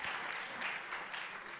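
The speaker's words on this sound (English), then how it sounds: "Let's give him another round of applause" An audience at a Brooklyn Black History Month celebration claps steadily, a dense, even wash of applause from many hands throughout, moderately loud with no voices standing out.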